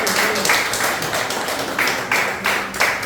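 A church congregation claps in praise of the Lord after a sermon, a dense wash of hand claps with rhythmic swells and accents running steadily throughout.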